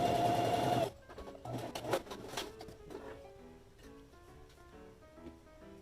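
A close sewing machine stitches along the edge of the fabric for a feather crop top. The burst is loud and lasts under a second, then gives way to quieter clicks and handling sounds.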